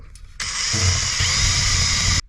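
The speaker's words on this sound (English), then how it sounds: "I drill it right on the seam" A power drill bores into the seam of a two-piece metal lure mold, a steady high-pitched whine running loud and continuous for nearly two seconds after a brief faint start, then cutting off abruptly.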